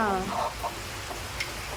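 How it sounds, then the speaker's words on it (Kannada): Steady heavy rain hisses all around, with a brief voice near the start. "ಜೋರಾಯ್ತು ಮಳೆ"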